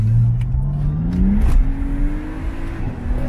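A BMW 135i revs hard while drifting, its engine note climbing steadily, dipping briefly, then holding high and loud close by, with no voices.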